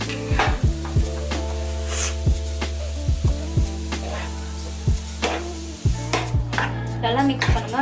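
A spoon stirs white cheese pasta with cream in a pan, giving repeated close scraping strokes and soft sticky squelches over a faint steady sizzle, loud and rhythmic with short pauses between motions.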